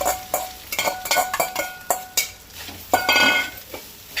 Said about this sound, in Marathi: 2 कप सय घालपाक जाय आनी तिवूय भाजून घेवंक जाय.